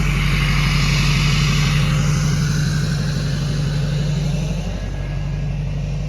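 A truck with a 2009 LMM Duramax diesel and six-speed Allison transmission runs steadily nearby, giving a loud, even, droning rumble that holds throughout with only a slight dip near the end.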